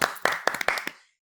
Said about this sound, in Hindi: अपने लिए तो क्लैपिंग कर सकते हैं आप